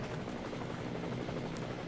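A TV camera helicopter flies over a DTM race at the Norisring, its rotor giving a steady, loud, close chopping drone throughout with no talk.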